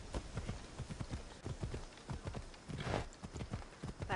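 Horse hooves clip-clop at a steady walking pace in Assassin's Creed Odyssey, a close run of rhythmic thuds with a brief snort or whinny partway through and no talking.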